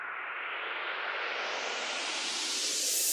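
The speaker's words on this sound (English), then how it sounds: "Reverses and white noise to give the listener a heads up that we're moving to the next part of the song." A future bass transition effect of white noise sweeping steadily upward, a rising hiss that swells and brightens over about three seconds, heard alone.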